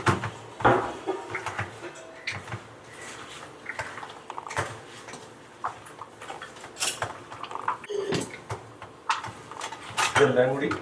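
Beef and coconut pieces being stirred together in a pan, with repeated scraping and clattering of a utensil against the metal, irregular knocks and clinks close by, and brief voice sounds in places.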